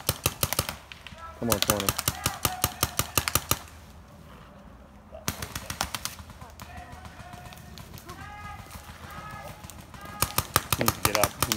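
Rapid bursts of paintball gun fire crackle through a woodsball tournament finals game in the woods, close and loud, with rattling volleys broken by short pauses while players shout and call out to each other.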